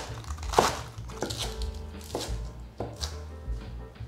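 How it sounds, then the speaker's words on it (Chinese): A knife chops cabbage into thick strips on a cutting board: a handful of firm, crunchy thuds spaced unevenly, close and moderately quiet, with no talking. "切高丽菜可以把空气压掉再切，切成粗条状。"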